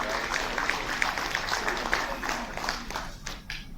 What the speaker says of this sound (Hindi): एक बार जोरदार तालियां इन निक्षय मित्रों के लिए।